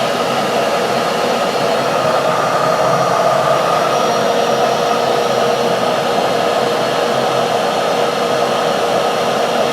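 A steady, loud rushing roar of air drawn through a cylinder head flow bench vacuum source with valves fully open, continuous and unchanging for the whole stretch with no voices.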